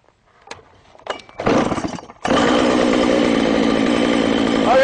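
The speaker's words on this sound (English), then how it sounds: "fire up our saw, and we have to make sure we take all the slack up in the cable before we hit full throttle" A chainsaw engine driving a Lewis chainsaw winch to pull a big log is started with a few pulls and sputters, then roars steadily at high, loud revs close by.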